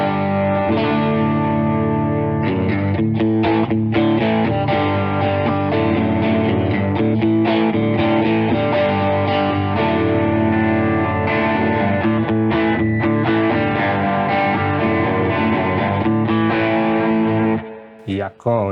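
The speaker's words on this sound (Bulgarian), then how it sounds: "Тук вече отиваме в доста сериозни драйвове." Electric guitar through a Two Stage drive pedal, heavily distorted and sustained for rock and metal, playing chords and riffs loudly and continuously for nearly twenty seconds with no talking over it.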